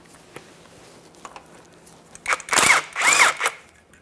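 An impact or power tool spins off 15mm axle mounting bolts on a 2015-2020 Cadillac Escalade front axle: a quiet workshop, then two loud buzzing bursts of about half a second each, close up.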